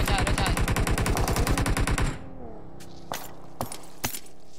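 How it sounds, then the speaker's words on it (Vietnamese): Rapid automatic gunfire from PUBG Mobile rattles loudly for about two seconds, then breaks off into a few sharp, isolated shots and clicks over a quieter game background. "Ở bệnh viện nó bắn qua kìa."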